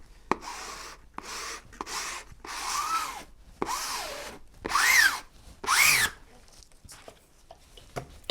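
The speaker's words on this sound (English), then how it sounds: "I can finish this off with my plastic squeegee" A plastic squeegee drags in repeated short strokes across epoxy-wet glass fabric on a wooden boat hull, each pass a close, scraping rub separated by brief pauses.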